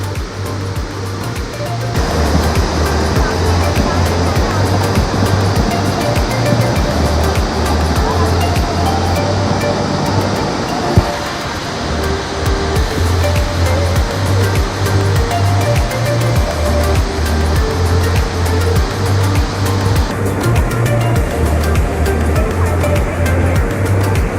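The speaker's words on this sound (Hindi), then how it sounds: "ये पुष्पावती नदी है जो आपको बहते हुए दिख रही है।" The Pushpavati river rushes along a steep, rocky trail in the Valley of Flowers during the monsoon, a loud, continuous broadband roar of flowing water close by, with someone talking intermittently over it.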